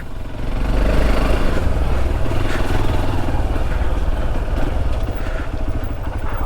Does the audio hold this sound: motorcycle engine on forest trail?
yes